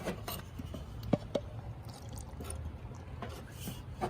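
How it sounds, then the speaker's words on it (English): Water poured into a green organic whitewash base powder, a faint trickling and splashing pour with a few small clinks, low and close. "Now we'll add some water."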